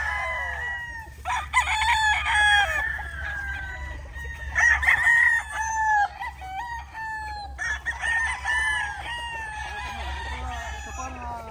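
A white Kelso rooster crows repeatedly at close range, several full cock-a-doodle-doo calls with other chickens clucking around it and a steady low farmyard hum underneath.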